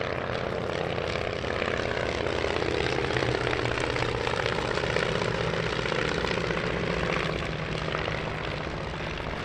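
A vintage Miles propeller aeroplane, F.G. Miles' personal aircraft and the only surviving example, drones steadily overhead at the Shuttleworth airshow, its engine a continuous moderately loud buzz with no pauses.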